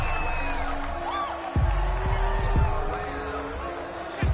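A stadium crowd in an EA Sports football video game keeps up a constant background roar with a few whoops and cheers, while a commentator talks over it.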